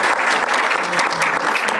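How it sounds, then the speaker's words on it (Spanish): Audience applause at a ceremony launching a pedagogical experimentation center, a dense, steady clapping from a hall full of people that holds loud and unbroken from start to finish. "Un aplauso también para don Víctor."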